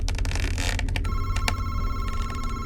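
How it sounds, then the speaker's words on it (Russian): A telephone rings in a horror puzzle video game, a steady electronic ring heard over a dense, loud game background with no talk. "Телефон."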